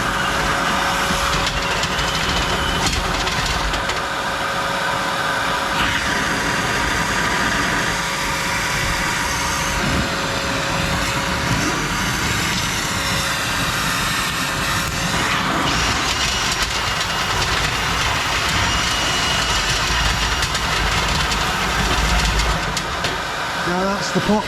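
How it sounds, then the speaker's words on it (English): A vacuum cleaner runs continuously while cleaning out the cowl of a Chilli Penguin stove, its loud, steady whirring motor noise filling the whole stretch without a break. "Vacuum on."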